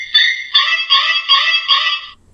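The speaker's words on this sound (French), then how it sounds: "Je vais essayer de vous faire écouter le bruit de Psycho quand même." A Halloween sound-effect gadget plays the screeching strings of the Psycho shower scene: a series of harsh, high stabs repeated in quick succession, close and loud.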